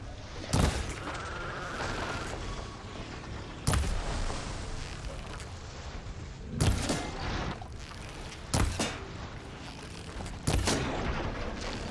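Gunfire rings out in Horizon Forbidden West while shooting out a radar: five sharp, heavy booming shots spaced a couple of seconds apart, each echoing briefly against a rumbling game background.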